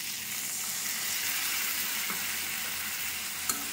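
Halved tomatoes with ginger, Kashmiri chilli powder, cumin and coriander frying in a pan, a steady dense sizzle throughout at moderate level, with one brief clink near the end and no voices.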